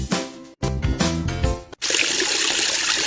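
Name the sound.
water running from an open tap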